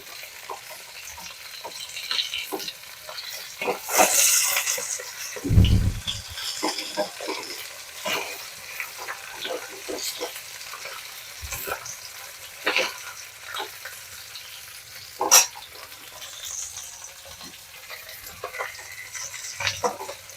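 Bata fish frying together in a large wok of hot oil, a continuous soft sizzle broken by scraping stirs and occasional louder clatters and spatters, close and steady with no talking.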